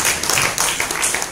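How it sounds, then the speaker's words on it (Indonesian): An audience at an Islamic study session applauds for Jombang, a brief, dense burst of many hands clapping that stays fairly loud for its whole short length. "Tepuk tangan untuk Jombang."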